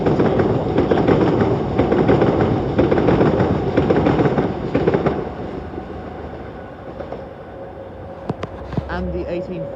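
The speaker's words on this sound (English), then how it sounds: "Here comes the 1844 London Overground service to Watford Junction." A London Overground train passes at Primrose Hill with a dense, loud rumble and rhythmic clatter of wheels over rail joints, fading toward the end as a few sharp clicks and squeals follow.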